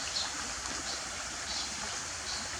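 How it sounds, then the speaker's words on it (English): A creek in Roxas, Isabela flows as someone wades across it, making a faint, steady rushing hiss of running water with no voices. "Anyway, I'm crossing the creek."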